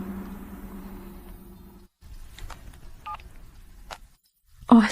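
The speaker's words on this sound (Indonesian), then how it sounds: "Aku telepon dia." A phone dials out with a short run of keypad tones, faint and separated by brief gaps, ending in a sharper electronic sound as the call connects.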